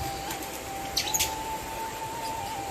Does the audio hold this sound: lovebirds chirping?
yes